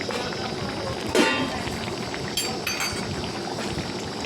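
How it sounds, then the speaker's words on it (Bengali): Fried shrimp go into a bubbling potato and ridge gourd curry with a brief splash and clink of utensil on pot, followed by a soft simmer and a few light metallic taps. "দেখো এরপর আমি ভেজে রাখা চিংড়ি মাছগুলো দিয়ে দিলাম"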